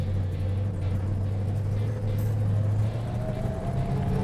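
A 1970 Plymouth Road Runner with a 440 six-barrel and a four-speed manual pulls away from a shop, its engine a steady, close, low rumble with a faint gear whine rising partway through, and someone talking over it.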